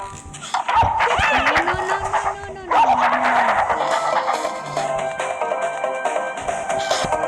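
A dog in the video game Robbery Bob yips and barks in short bursts over music and other game sounds, with a rising and falling tone in the background.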